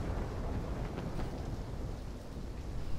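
A thunderstorm in Call of Duty Black Ops III, heard as steady rolling rumble and rain wash, dense and continuous throughout at low level, with no talking.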